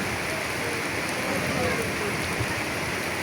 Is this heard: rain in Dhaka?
yes